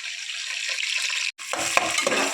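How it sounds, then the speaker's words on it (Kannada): Onions tipped into hot oil with pulao spices, a bright close sizzle that breaks briefly, then resumes with stirring clatter and crackle. "ಸೊ ಇವಾಗ ಈರುಳ್ಳಿನ ಹಾಕ್ತೀನಿ."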